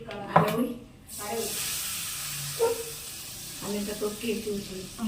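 A hot tempering sizzles briefly as it is poured into tamarind chutney at home. A close hiss follows with soft clinks, while people talk over it.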